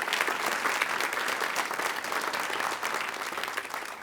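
A convocation audience at a Los Rios Colleges gathering gives a round of applause, a steady wash of many hands clapping close and uninterrupted, fading only slightly by the end.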